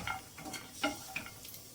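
Jackfruit seeds being dry-roasted in a pan, giving a few soft, scattered clicks and scrapes as they are stirred, fairly quiet and close, with no talking.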